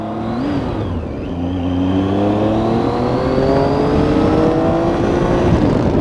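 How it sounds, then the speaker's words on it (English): A Triumph Tiger 800 three-cylinder motorcycle engine hums and climbs steadily in pitch as it accelerates, a loud continuous buzzing drone with rising tones. "the 3-cylinder has a kind of an interesting sound to it"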